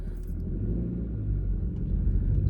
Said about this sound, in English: there's just a car coming up this way.